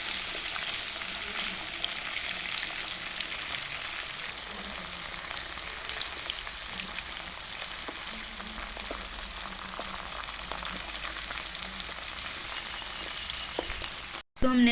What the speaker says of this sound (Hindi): इसे हम अच्छी तरह से फ्राई करेंगे।